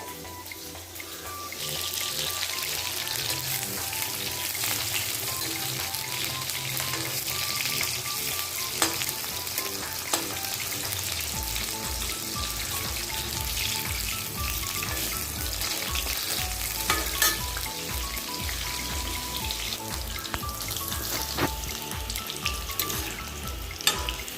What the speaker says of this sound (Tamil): இப்போ கத்திரிக்காய் நல்லா எண்ணெயில் பொரிச்சிட்டு